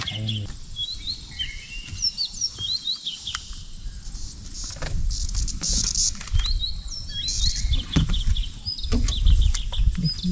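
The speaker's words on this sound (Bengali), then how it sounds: "পাখি বিদ্যুতের মতো আওয়াজ করে।" A forest bird on a safari in Kanha Forest gives repeated sharp, buzzy, electric-sounding sweeping chirps, high and clear, over a constant rustling patter and scattered faint background noise.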